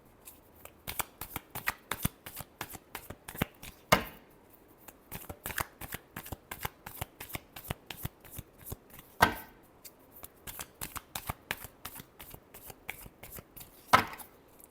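Tarot cards shuffled by hand in quick riffling bursts, crisp papery flicks in rapid clusters broken by a few louder slaps as the deck is squared, close and dry with no talking over it.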